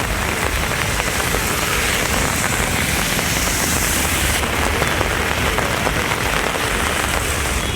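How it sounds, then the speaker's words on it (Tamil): Heavy rain pours steadily in suburban Chennai, a dense, unbroken hiss of drops drumming on surfaces, loud and close throughout with no pauses or voices. "சென்னை புறநகர் பகுதிகளில் கனமழை பெய்தது"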